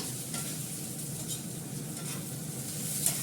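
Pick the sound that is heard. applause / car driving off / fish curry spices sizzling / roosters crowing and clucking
fish curry spices sizzling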